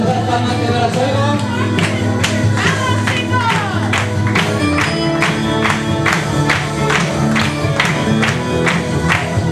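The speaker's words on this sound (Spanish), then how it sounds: "Vamos a dar palmas de la suela" Hand clapping in rhythm, like flamenco-style palmas, a steady run of sharp claps over loud music at a lively musical performance.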